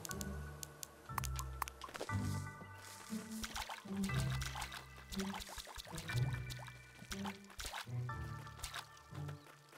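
Crops being watered in the video game Staxel, with repeated splashy pours and drips recurring in short bursts over a light musical background, close and moderately loud.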